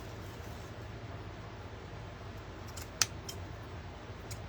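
Scissors trimming a paper napkin for a craft project, heard as a few quiet, brief snips and clicks over low background hum.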